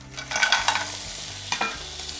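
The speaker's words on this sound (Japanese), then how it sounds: "香りが出たらここで掃除したボンゴレが入ります" Cleaned vongole clams go into a frying pan of garlic-infused olive oil over low heat for spaghetti alle vongole bianco, bringing a steady oily sizzle with scattered clinks and stirring clatter of shells, no voices.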